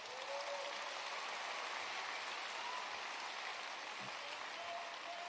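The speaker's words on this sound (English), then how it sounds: "Jeff, stand up and let's give Jeff Sprecher a round of applause." Audience applause in a high school hall during a presidential visit to the Atlanta area, a steady wash of clapping held at an even level throughout, with no clear voices over it.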